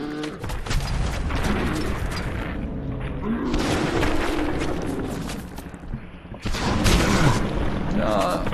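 Heavy booming gunfire and explosive blasts in the Fallout 4 video game, a continuous loud rumbling barrage with layered impacts and mechanical clatter, swelling again near the end.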